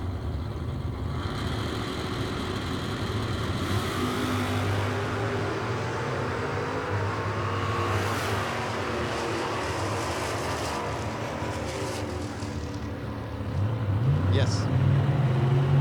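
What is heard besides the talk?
drag racing cars, Chevrolet Malibu and Camaro, accelerating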